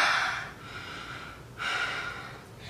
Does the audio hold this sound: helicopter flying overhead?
no